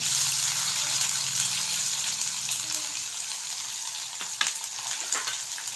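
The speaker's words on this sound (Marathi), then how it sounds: "छान असा फ्राय करून घेऊया" Chopped onion sizzling in hot oil with asafoetida and cumin, a steady close crackle with a few sharper pops and stirring sounds.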